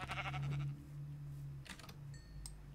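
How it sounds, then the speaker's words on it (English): Sheep bleating in the Minecraft video game: a loud, wavering bleat up close, then fainter game clicks and tones with no speech. "Yes, sheep."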